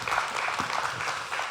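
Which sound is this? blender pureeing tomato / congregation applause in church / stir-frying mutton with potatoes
congregation applause in church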